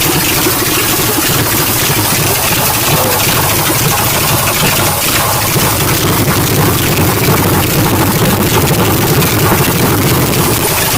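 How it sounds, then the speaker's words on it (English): A 1989 Dodge Dakota with a 5.9 carbureted engine idles slightly rough. Its loud, dense rumble runs without pause, close up and alone. "It does idle a little rough at first because the carburetor"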